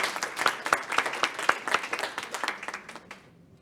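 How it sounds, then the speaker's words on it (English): An audience at a conference on digitisation and preservation in Africa applauds a panel with a round of close, crisp claps that thin out and fade away within a few seconds. "please join me to thank the panel with a round of applause"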